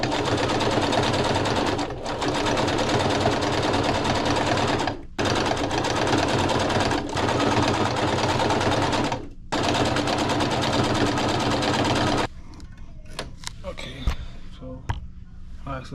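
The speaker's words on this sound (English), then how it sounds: "I'm gonna fold them like this and sew it down that way and make a strap out of them." A sewing machine stitching a floral fabric bag strap runs in long steady bursts with brief pauses, loud and close, then stops and gives way to quieter handling noises.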